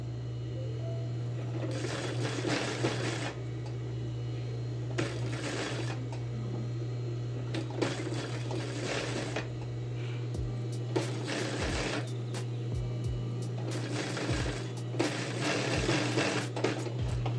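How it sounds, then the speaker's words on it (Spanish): A sewing machine runs a French seam along a men's trouser pocket, stitching in several separate bursts of a few seconds each over a steady low electrical hum, with short pauses between runs. "procedo a pasar la costura francesa para limpiar el bolsillo"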